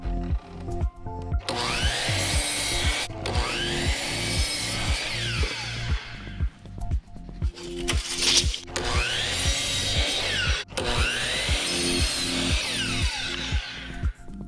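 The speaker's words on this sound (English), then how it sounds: "let's take a couple 1x3s and cut two at 10 inches and two at 40 inches" A power saw cuts 1x3 wood boards, a loud steady whine that rises into three long cutting passes, with brief pauses between them and no talk.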